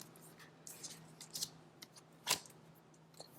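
Tarot cards handled during a card reading, soft sparse flicks and slides with a few sharper snaps, faint and close, no talk.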